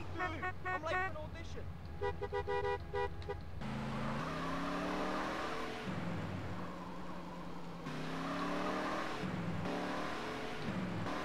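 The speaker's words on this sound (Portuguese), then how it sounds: "Motor barulhento esse, né?" A car engine in GTA San Andreas revs and drones loudly, rising and falling in pitch over in-game music, with horn-like tones near the start.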